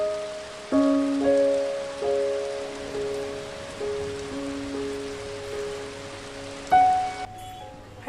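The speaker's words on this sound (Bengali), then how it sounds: "সকাল থেকে প্রচুর পরিমাণে বৃষ্টি হচ্ছে।" Heavy rain falls in a city as a steady broadband wash, overlaid by a sustained tonal chime-like hum that shifts pitch in steps, with no talk.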